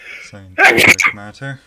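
One sharp, loud sneeze bursts out mid-clip during a tabletop roleplaying session, with people talking just before and after it.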